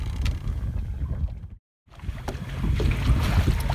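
A solar-powered electric motor drives a boat along on open water, a low steady hum under wind buffeting and water wash, broken by a brief dropout in the middle.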